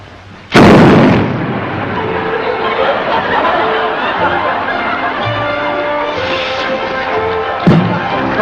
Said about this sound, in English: Now, when I light that, it'll explode.